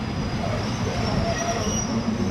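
Thai commuter train on the Rangsit to Hua Lamphong line, a steady rolling rumble inside the carriage with a thin high metallic whine running throughout.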